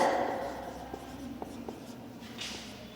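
A pen writing on paper in a primary-school science lesson on animals, light scratchy strokes with a few soft taps, quiet beneath steady room tone.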